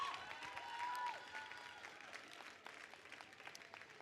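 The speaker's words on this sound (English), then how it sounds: "give yourselves a huge round of applause" An audience at a One Billion Rising for Justice rally in Santa Fe breaks into applause, a moderate, fairly distant patter of many hands with a few cheers and whistles, slowly thinning out.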